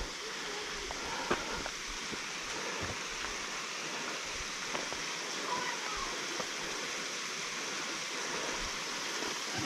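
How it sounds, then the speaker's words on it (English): Small waterfall beside a mountain hiking trail in the Great Smoky Mountains, a steady broadband rush of falling water, moderately distant and continuous, with a few faint knocks and rustles. "Looks like there's maybe a waterfall, small one up here."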